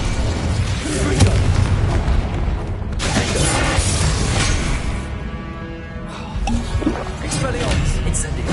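Confringo explosive spell cast in the Hogwarts Legacy video game, heard as loud booming blasts and bursts mixed with other spell effects and voiced incantations throughout.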